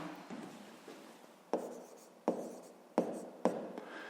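A pen scratches across paper while working a fifth-grade math exercise, with several sharp taps and short strokes in an otherwise quiet room.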